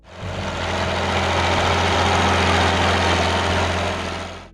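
A steady, smooth International Harvester six-cylinder diesel tractor engine idling close by, with a deep low rumble that holds constant throughout and no voices.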